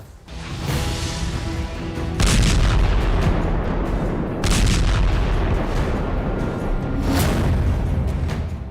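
Heavy explosions from an Israeli army bombardment in Beirut, Lebanon, come as loud, sustained booming blasts and rumbling bursts that repeat several times and overlap into a dense roar, with no talking.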